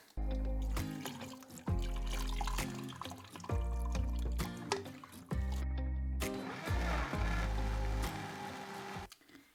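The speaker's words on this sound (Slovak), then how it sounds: "Idem to zmixovať" Scalded nettles and water are blended into a spinach-like purée: a fairly quiet motor whirs in short repeated pulses, with wet, sloshing liquid sounds between bursts.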